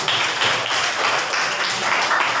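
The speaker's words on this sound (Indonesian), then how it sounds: "Tepuk tangan untuk Diko dulu" Applause from a classroom of students in a Catholic religious education lesson, a steady dense patter of clapping that holds for a couple of seconds without talk.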